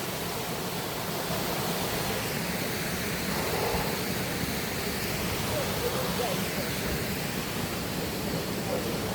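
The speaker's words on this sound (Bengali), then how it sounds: "ঝর্ণা" A waterfall rushes beside a night trekking trail, a steady broadband roar of falling water that fills the whole stretch, with faint voices underneath.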